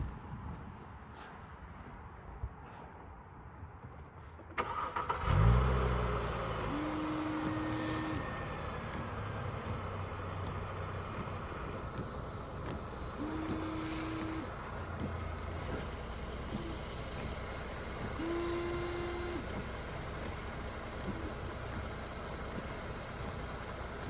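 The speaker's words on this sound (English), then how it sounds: "I'm about to activate the windshield wipers and we'll see how it clicks" Windshield wipers with new blades sweep across the glass of a Mercedes W204 C300 with the car's engine idling. Three separate wiper passes each give a short squeak and rub, spaced evenly over the steady hum of the engine.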